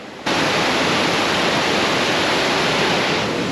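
A large, substantial waterfall roars in a continuous, loud broadband rush that starts abruptly and holds steady and dense throughout, with no voices over it.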